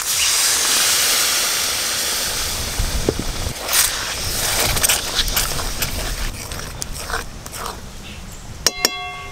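Water poured into fried spice paste in a pan for a chital fish curry, giving a loud, steady hiss and sizzle up close that slowly settles, with a few clinks near the end.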